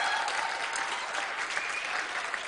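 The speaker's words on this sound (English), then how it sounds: "a good old Grand Prairie round of applause for these fellas" Steady wash of audience applause at Centre 2000 in Grande Prairie, a round of clapping for a band after a concert set, even and continuous at moderate distance.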